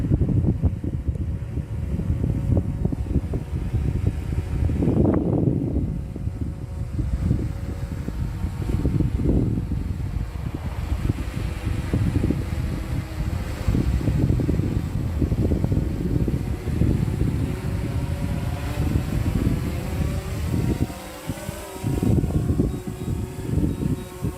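A DJI Phantom 4 RTK drone comes in to land, its rotors giving a steady whirring drone that stays loud and close throughout, with some wind rumble.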